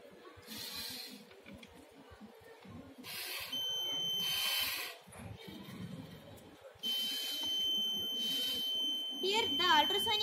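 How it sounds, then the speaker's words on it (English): An Arduino-driven buzzer on a railway track crack detection model, triggered when ultrasonic sensors find a crack, sounds in steady electronic tones over a noisy background with intermittent broadband bursts. "Then the Arduino give this buzzer. That's why the buzzer is giving intimation to us."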